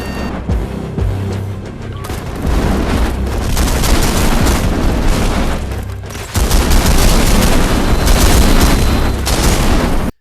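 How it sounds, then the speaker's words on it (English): Continuous gunfire in the VR shooter Espire 2 on Quest 2: dense, crackling bursts of shots and booming impacts running throughout, fairly loud and busy, with a sudden jump in intensity near the end. "Gun sounds wise, matters are made worse as, like gunplay itself, guns lack any real weight or volume in the audio mix"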